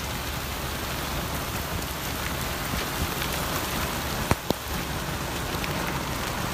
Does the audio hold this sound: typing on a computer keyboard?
no